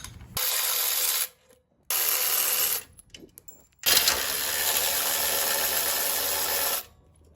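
A ratchet wrench removes side cover bolts from a minibike engine, producing three long bursts of fast, steady clicking close up, separated by short pauses and faint handling noise.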